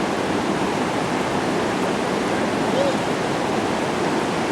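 Flooded creek pouring steadily past, a dense, even rush of water that holds at a constant loud level throughout with no pauses.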